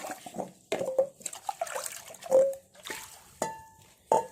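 Water is poured and splashed while an old brass vessel is washed by hand, coming in short, uneven gushes and drips, close and fairly quiet.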